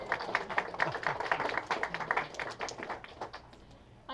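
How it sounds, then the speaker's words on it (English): An audience at a book reading claps in a steady, dense patter of many hands, moderately close and fading a little toward the end, with no voices. "Now all clap."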